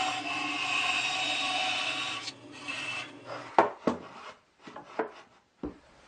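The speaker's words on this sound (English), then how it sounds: "So I'll just do that while it's assembled on the bandsaw." A bandsaw cuts a wood profile for a homemade sander, giving a steady rasping whine for a couple of seconds. It then stops, followed by scattered knocks and short scraping sounds as the workpiece is handled.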